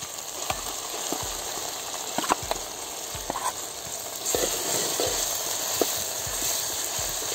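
Ground masala paste sizzles in hot oil with tomato for an egg masala curry, a steady close fry broken by intermittent scrapes and taps of a spoon stirring the pan.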